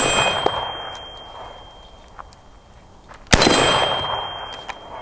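A single sharp crack from a suppressed FN SCAR 16S or Bushmaster ACR rifle, sudden and loud against quiet outdoor air, followed by a lingering noisy tail as the action cycles sluggishly.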